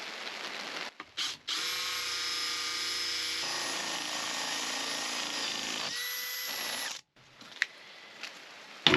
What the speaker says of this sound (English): let's drill a hole so that the router bit can get in to where it needs to be